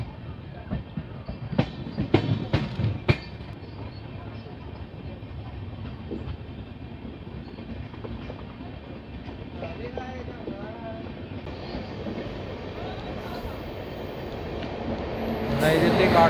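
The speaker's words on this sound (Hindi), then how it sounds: "सामने से आ रही है नई दिल्ली काठगोदाम शताब्दी एक्सप्रेस।" The New Delhi–Kathgodam Shatabdi Express approaches on Indian rails, a low rumble building gradually with a few sharp clanks and a faint horn near the end, heard alongside someone talking.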